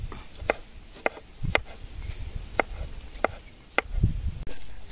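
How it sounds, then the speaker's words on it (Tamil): A knife finely chops onions on a board for a yogurt raita, striking in a steady series of crisp, close taps with brief irregular gaps. "வெங்காயத்தை நல்லா பொடிசாக கட் பண்ணி போட்டுருவோம்"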